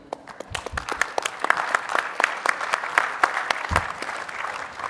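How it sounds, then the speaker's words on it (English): Audience applause at a conference luncheon, a steady patter of many hands clapping in a room, with some faint voices mixed in. "So shall we give them a round of applause"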